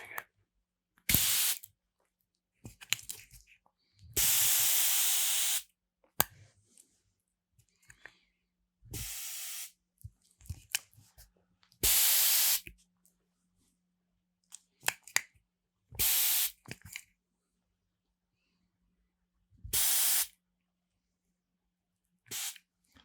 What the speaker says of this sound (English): Say what you want about being an emo. The spray bottle is pretty cool,